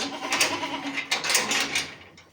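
Goats bleat on a goat farm during kidding, with several loud, wavering calls overlapping close by and one sharp cry near the middle, with no voices.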